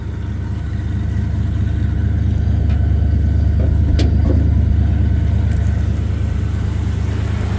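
1978 Chevy C10 pickup with a 350 V8 and 400 turbo transmission, driving with a steady, loud low engine drone and road rumble heard from inside the cab, with a few brief clicks and rattles.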